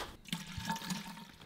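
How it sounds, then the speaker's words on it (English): Water poured into a container to dilute plant fertilizer, a soft steady trickling and splashing heard close up and fairly quiet, with no talking. "And then I go ahead and I dilute with some water."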